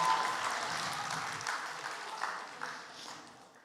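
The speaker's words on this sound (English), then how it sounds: "Can we get a round of applause for Bhavin?" Audience applause after a staff member is introduced at a Home Base event, a dense, steady wash of many hands clapping that gradually fades toward the end.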